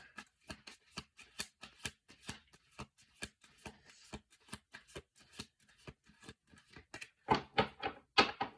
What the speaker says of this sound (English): I'm gonna do 2 more shuffle throughs